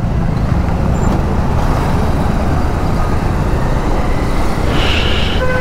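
Dense road traffic of many vehicles, cars, buses and trucks, queued at a railway crossing, heard as a steady, loud, broadband roar with a brief hiss like an air brake near the end.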